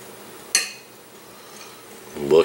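A knife cuts open a perfectly cooked hard-boiled egg, giving one sharp, close click against a quiet background. A brief voice-like sound rises at the very end.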